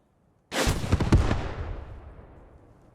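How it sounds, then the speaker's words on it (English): A Panzer III tank cannon in the game Post Scriptum fires one sudden, heavy boom out of near silence, followed by a long rumbling roll of echo that slowly fades, with no talking. "Great timing there from the Panzer III. And still putting some shots in the cliffside here."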